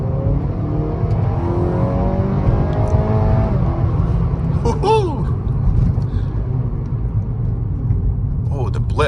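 A 2021 Acura ILX compact sedan in sport mode accelerating from about 25 mph, engine rising through the gears with a downshift and quick throttle blips midway, heard from inside the car, loud and steady.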